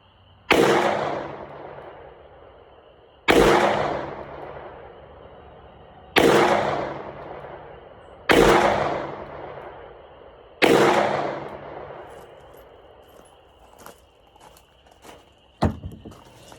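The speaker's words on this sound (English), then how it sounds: "So I'll shoot the one on the right with my regular grip." Five loud handgun shots fired outdoors at dusk with a regular grip, evenly spaced about two seconds apart, each with a sharp crack and a long echoing decay, followed by faint footsteps and small clicks.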